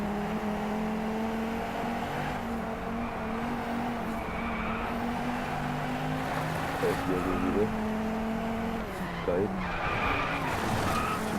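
Car tires skidding and squealing through a drift in the Driveclub racing game, a sustained screech over steady engine drone with a louder flare near the end, while someone talks over it.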